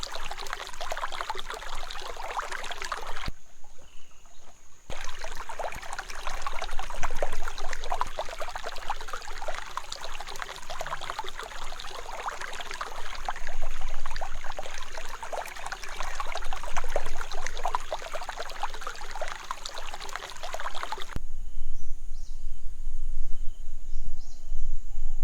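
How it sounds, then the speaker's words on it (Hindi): Small waterfalls in a jungle trickle and splash steadily over rocks, a soft continuous flow with a faint high insect or bird tone in the background. "कहीं से छोटे छोटे झरने बह रहे"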